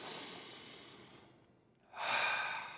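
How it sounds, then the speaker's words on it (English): Slow deep breathing during a yoga session on Clovelly Headland: a long soft exhale that fades into a pause, then a stronger breath, close and quiet with no talk. "Breathe in. Exhale."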